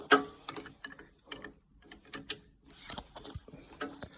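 A wrench works a bolt loose on a Rix SA-6 compressor, producing a series of close, uneven ratcheting clicks and metallic knocks separated by short pauses.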